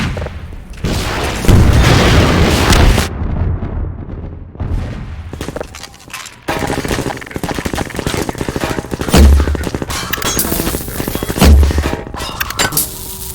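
Loud gunfire at soldiers in Half-Life 2, with rapid bursts of shots and heavy booms packed in dense, repeated volleys close up, separated by a few brief pauses.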